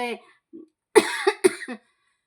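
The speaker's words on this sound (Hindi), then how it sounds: "खांसी बहुत परेशान कर दिया है" A few sharp coughs in quick succession, close and loud, following a brief fragment of speech.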